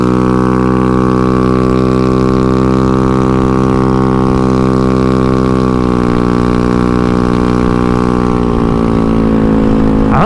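A Honda Ruckus scooter with a GY6 engine and no header pipe runs loud and raw, a droning buzzy exhaust note that holds steady, then shifts pitch as the revs change toward the end.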